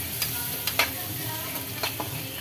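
Steady sizzle of red chilli powder and spices frying in a hot pan for cauliflower fry, with a few sharp crackles and stirring scrapes, close and continuous, no voices.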